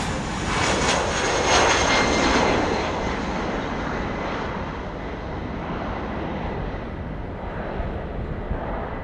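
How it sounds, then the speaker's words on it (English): An Air France Airbus A319 jet airliner roaring past at Amsterdam Schiphol, a loud broad engine rumble that peaks early then slowly fades, with no talking. "Air France A319, and this is Amsterdam to Paris Charles de Gaulle"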